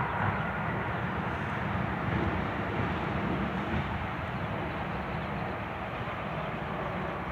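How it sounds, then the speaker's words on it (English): Low-flying large airplane passing overhead, a loud, steady broadband roar that holds for several seconds with a slight fade near the end, with no talking. "Whoa, look how low that plane is."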